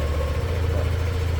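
Yamaha NMAX Turbo scooter engine idling, a steady low close drone with a faint throbbing pulse, heard briefly without talk.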